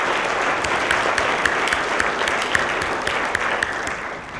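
Audience at a fitness business training conference giving a sustained round of applause, a thick, even roar of many hands clapping close and loud, with a few sharper individual claps standing out.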